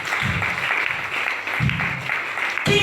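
A church congregation claps together in a short burst of applause, dense and fairly loud, with a few voices mixed in and a louder swell near the end.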